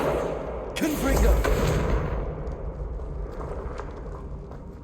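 A Confringo fire spell cast in the video game Hogwarts Legacy, a sudden blast with a crackling, fiery burst that swells then fades into a rumbling tail, loud and close over a game ambience.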